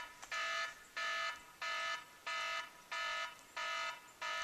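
A phone rings with an incoming call, a faint electronic tone repeating in seven even bursts with short gaps between, heard alone in a quiet room with no voices.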